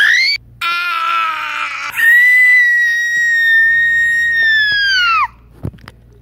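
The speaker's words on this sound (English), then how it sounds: "What are you screaming about?" A loud, high-pitched scream in a plush-toy puppet skit rings out in a brief burst, then holds as one long wavering cry for about three seconds before cutting off.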